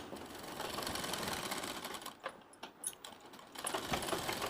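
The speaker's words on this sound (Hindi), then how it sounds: "तो इसके ऊपर हम दाब सिलाई देंगे सबसे पहले।" Sewing machine stitching pressed seams along a folded fabric strip for a sleeve design, a steady fast whirring run that breaks into short bursts and pauses near the end, close and fairly quiet.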